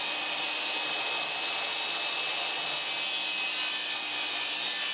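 Table saw with a tilted blade making a very small crosscut through wood on a crosscut sled, a steady, fairly quiet whining rush of blade noise sustained throughout without any talking.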